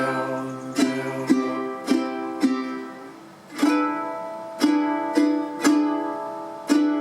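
Ukulele strummed with single downstrokes on sustained chords for a song, about ten evenly spaced strums with a short gap midway, played solo at close range.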